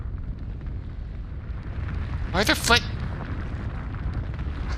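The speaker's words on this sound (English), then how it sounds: "The flames of an explosion surged into the room." In a video game, an explosion bursts through a door and flames surge into a room: a short, sharp roaring burst rises over a low rumbling backdrop, with a voice speaking briefly.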